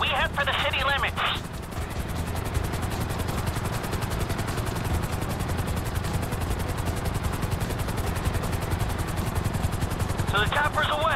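A helicopter in an action scene makes a steady, loud rotor drone throughout, mixed with gunfire-like bursts and brief voices near the start and end.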